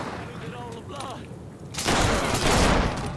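Bursts of rapid gunfire from guns in the video game Mafia 3 erupt loudly after a short stretch of quieter game sound and talk, then keep going as a dense, sustained volley to the end.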